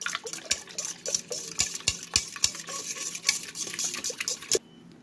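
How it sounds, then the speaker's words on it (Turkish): Dry mix of sugar, salt and baking powder being stirred with a spoon in a bowl, with sharp repeated scrapes and clinks in an uneven rhythm, close and moderately loud, ending in quiet. "birazcık karıştıracağım."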